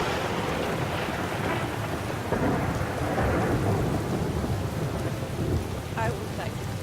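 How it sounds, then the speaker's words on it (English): Rain and a thunderstorm in the Skyrim video game, a steady loud downpour with rolling thunder swelling midway, and brief speech over the storm. "Good grief, looks to be one of those rainy days."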